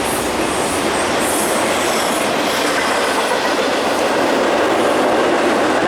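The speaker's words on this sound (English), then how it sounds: "The nice thing about the train though is that loud noise will scare all the wild animals away probably." A train passes loudly on railroad tracks outdoors, a steady, close, continuous rumble with clattering wheels and faint squeal, filling the whole stretch without any voices.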